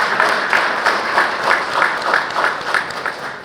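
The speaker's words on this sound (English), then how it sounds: "Let's give Melissa, Matt, and Craig another round of applause." A conference audience applauds panel speakers after a technology acquisition session, a steady burst of clapping with gentle rhythmic swells, moderately loud and close.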